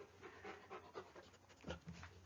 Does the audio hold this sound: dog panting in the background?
yes